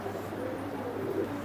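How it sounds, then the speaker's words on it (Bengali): A pair of mated pigeons, high-flying birds kept for sale, gives soft, low cooing in a steady murmur over a faint background hum, with no talking. "এই দুইটা কবুতর দেখেন, এক পেয়ারিং কবুতর।"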